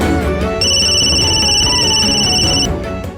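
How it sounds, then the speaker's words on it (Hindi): A phone rings with a steady electronic tone for about two seconds over background music, then stops. "माँ का फोन।"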